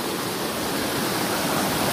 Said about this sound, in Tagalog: Lakas ang tubig, guys, oh.